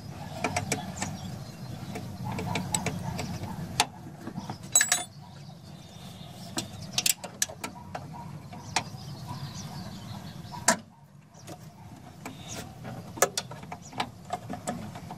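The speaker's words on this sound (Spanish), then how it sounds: "Vamos a aflojar lo que es al lado izquierdo, al contrario de las manecillas del reloj," A wrench loosens a master cylinder bolt counterclockwise on a VW Beetle, giving scattered ratcheting clicks and metallic taps over a steady low workshop hum, close and moderately loud.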